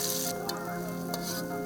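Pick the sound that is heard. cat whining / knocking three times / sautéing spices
sautéing spices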